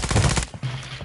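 Rapid burst of automatic gunfire in Call of Duty Modern Warfare, loud and close for about half a second, followed by a fainter shot amid game noise.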